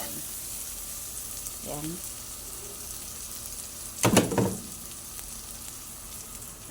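Onion and garlic sauté in a hot pan with a steady background sizzle, broken by a short burst of louder crackling and scraping midway; a voice speaks briefly early on.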